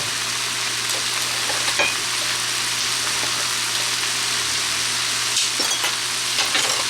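Fried rice with black pepper sizzles steadily in a hot pan, a dense continuous hiss with scattered scraping clicks from stirring, close and loud with no talk.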